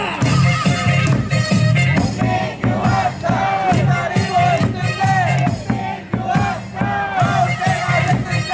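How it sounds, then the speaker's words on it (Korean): Baseball crowd in a Korean stadium chanting a player's name and clapping in rhythm, led by a cheerleader. The loud, dense chant is sustained throughout with little break. "박수 치고 공민규 한타!"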